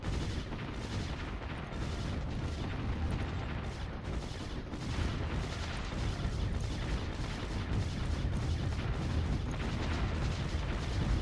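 Continuous rumbling long-range artillery and mortar fire from the real-time strategy game Warzone 2100, a dense, loud barrage of booms and blasts rolling on without pause and no voices over it.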